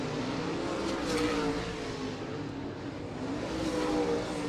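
Late model race cars at I-96 Speedway roar on the track, a sustained engine drone rising and falling as the pack goes by, heard at some distance with no talk in the foreground.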